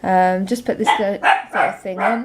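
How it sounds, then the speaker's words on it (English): A dog barks at a passer-by near a house, several sharp barks overlapping a person speaking close by. "excuse the dog barking at somebody"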